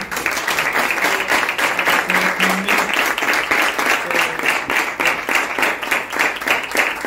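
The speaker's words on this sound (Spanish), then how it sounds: "se merece un fuerte aplauso" Audience applause at an audiology and Ménière's disease lecture, dense continuous clapping from a room full of people, steady and even throughout.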